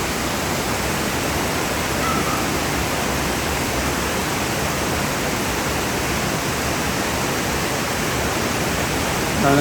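Gordale Scar waterfall roars as a steady, uniform broadband rush that fills the whole stretch without pause or other sounds.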